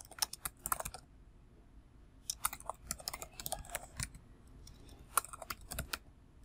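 Typing on a computer keyboard, quiet bursts of quick clicking keystrokes with short pauses between them, close but soft, with no talk.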